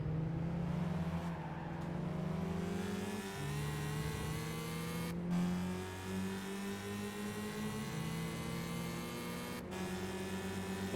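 Renault Sport Clio V6 24-valve engine in Gran Turismo 5, a steady loud drone with harmonics rising and falling through revs and gear changes, with brief dips between shifts and no talking.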